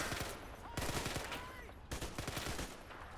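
Gunfire in the Men of War: Assault Squad battle at Mont Saint-Michel, with rapid bursts of rifle and machine-gun shots in two clusters, fairly quiet in the mix.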